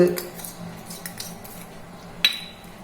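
Spoon clinking and scraping in a bowl while amla, curd and ground paste are mixed into a pachadi, a few light metallic touches and one sharper clink near the end, close and moderately loud.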